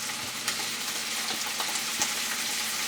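A stir fry sautés in a hot pan with a dense, steady sizzle and a few soft scraping stirs, close and alone.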